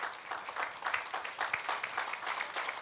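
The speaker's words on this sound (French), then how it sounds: "Sous vos acclamations encore" Applause from a congregation at a closing church service, soft and distant, a steady patter of many hands clapping for the whole stretch.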